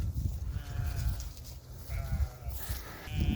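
A goat resting in a field in a Warsaw forest bleats several times among other bleating livestock, with wind and low rumbling outdoor noise underneath.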